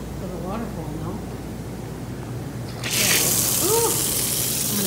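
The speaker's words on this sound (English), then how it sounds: "And the water flow will come shooting out." Water gushes suddenly from the drain valve of an Aquarest 600 spa, a loud steady rush that starts partway through and follows brief talk. A voice exclaims over the flow.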